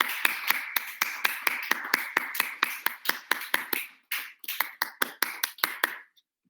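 A worship congregation claps steadily in rhythm, loud and close. The clapping runs in regular beats with one brief pause before resuming, then stops.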